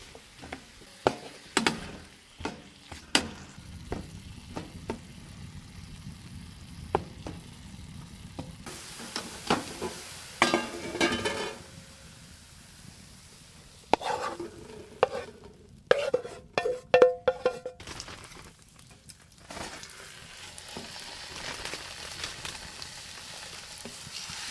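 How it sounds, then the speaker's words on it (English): Mushrooms sauté in a pan on a hot tent stove during winter camping, with a low steady sizzle broken by repeated scraping stirs and clatters of a utensil against the pan, close and fairly loud. "Saute some mushrooms."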